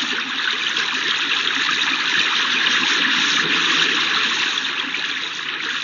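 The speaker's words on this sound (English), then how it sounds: "the sounds he heard were just those of the river running" A river runs swiftly under a bridge, making a steady, loud, broadband rush of flowing water that continues without a break and with no voices.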